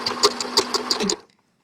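Sewing machine stitching over a seam joining square pieces of tie-dye fabric for a shopping bag, a loud rapid rhythmic needle clatter running about a second before stopping abruptly into silence.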